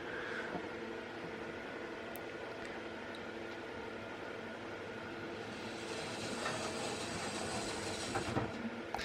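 Mainline-style model train locomotive running steadily into a layout station, a continuous close rolling rumble and rail hum with faint clicks over the wheels, getting slightly louder toward the end.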